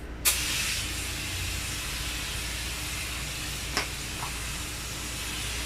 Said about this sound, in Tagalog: sprayan ko siya